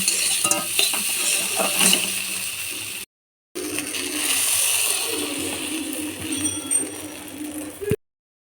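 Okra frying in a hot wok with oil for a spicy okra-and-potato dish, a steady close sizzle and crackle with occasional stirring scrapes, broken by two brief silent cuts.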